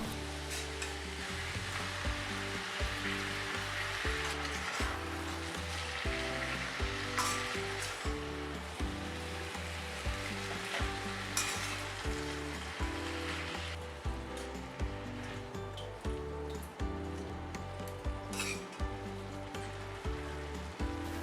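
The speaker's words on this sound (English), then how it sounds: "Now add the chopped spinach leaves, little at a time." Chopped spinach leaves frying in a pan in an Indian home kitchen for aloo palak, a continuous soft sizzle with repeated scraping and stirring strokes throughout, close up and with no voices.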